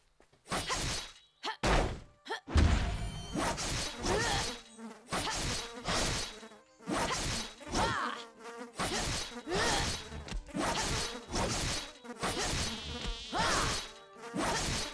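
A drake bee creature buzzes in the fantasy game Riders of Icarus, repeated insect-like bursts mixed with combat hits and thwacks, loud and choppy throughout.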